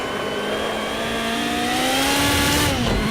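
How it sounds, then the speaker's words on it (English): A Porsche race car from the Legends Pack in Project Cars 2 drives on track, its engine revving steadily and rising in pitch through the gears in a loud, close, continuous drone. "So I'm going to let you listen to the car for a little bit."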